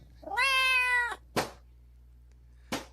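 A cat lets out one long, loud, clear meow followed by two short sharp yowls, each standing alone against a quiet room.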